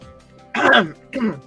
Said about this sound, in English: I had to clear my throat